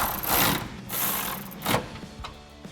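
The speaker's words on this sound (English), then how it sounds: "And then we can grab our 15mm socket to tighten these down." A 15mm socket ratchet clicks in short bursts while tightening exhaust nuts on a 2016-2023 Camaro SS axle-back exhaust, quiet mechanical ratcheting with brief pauses between strokes.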